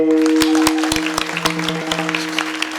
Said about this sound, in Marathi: टाळी वाज